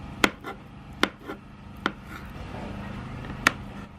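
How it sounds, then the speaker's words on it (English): Knife chopping avocado into small cubes on a cutting board, four sharp separate thuds spaced unevenly against a faint background hum. "Chop your avocado in bits too."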